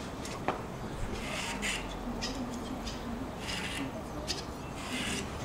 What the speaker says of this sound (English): the fibre has a waxy film on it, which I now need to scrape off